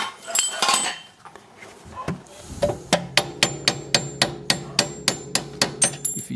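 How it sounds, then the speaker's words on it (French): A hammer drives a pin punch against a screw on a 2006 Mercedes C200 CDI. It starts with some scraping and handling, then a steady series of about a dozen sharp, ringing metal strikes, close and loud. "Et je vais taper ici, sur la vis pour la sortir dans l'autre sens."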